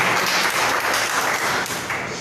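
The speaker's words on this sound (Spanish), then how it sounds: "denle aplauso al Señor" Church congregation applauding the Lord during a worship service, a steady wash of clapping with faint voices mixed in throughout.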